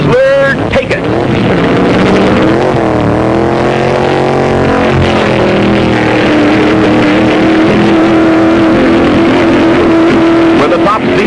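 Drag racing cars roar down the strip at the Great Lakes Dragaway, loud engines rising and sustaining in pitch over wind noise, with an announcer talking over the racket.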